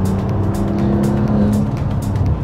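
A Maserati Levante SUV accelerates hard in sport mode with manual paddle-shift control, its engine note loud and close, a rising growl with rhythmic surges like gear changes across the short run.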